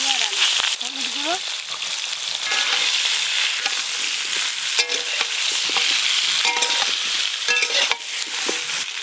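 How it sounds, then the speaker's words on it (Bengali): Sliced ridge gourd and potatoes fry lightly in hot oil for a fish curry, giving a loud, continuous sizzle broken by occasional scraping and stirring clatter. "ঝোলের জন্য ঝিঙে আর আলু একদম হালকা করে ভেজে নেব"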